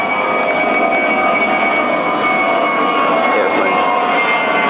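An airplane's jet engine passes overhead as a loud, steady, unbroken roar that holds at an even level throughout.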